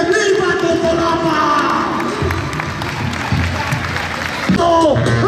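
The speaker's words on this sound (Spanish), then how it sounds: "que venga el primer aplauso" A crowd at a bull riding event in Totolapan, Morelos, claps and cheers in a busy arena, with an announcer talking over the steady applause and a louder burst near the end.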